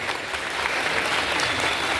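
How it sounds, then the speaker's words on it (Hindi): Loud, steady applause from a school assembly crowd gathered on an outdoor assembly ground, a dense continuous clatter of many hands clapping with no break. "एक बार इनके लिए जोरदार ताली बजाइए"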